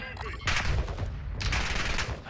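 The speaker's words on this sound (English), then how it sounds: "they're still up there sniping, bro. I hear them." Sniper gunfire in Warzone 2, two loud bursts of shots about a second apart, each ringing out with a rough, echoing tail.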